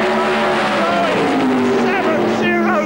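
Engines roar at high revs and climb in pitch as drag racing cars accelerate hard off the start line at Santa Pod in 1993, loud and close, with a commentator talking over them.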